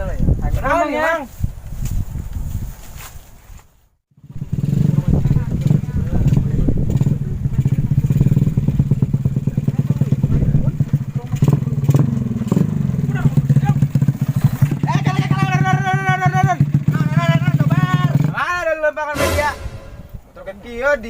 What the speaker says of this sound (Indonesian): Dia gandeng di knalpot.